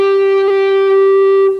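An electric guitar with its tone control wide open rings a single sustained bright note, rich in upper overtones, loud and close with no voices.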